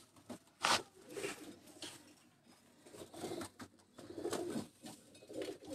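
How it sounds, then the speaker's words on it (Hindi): A home-bred racing pigeon coos in short bursts close by, with a few sharp rustles and flaps mixed in between the calls. "ये मेरे घर का होम ब्रीड है माशाल्लाह, देखें ये, इसका नाम हमने झूले लाल दिया है।"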